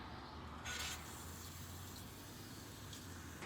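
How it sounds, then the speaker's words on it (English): A steady hiss of aerosol protectant spray inside a steel bike frame runs throughout, with a brief louder burst near the start, close by and unaccompanied by voices. "Spray it down the chainstays."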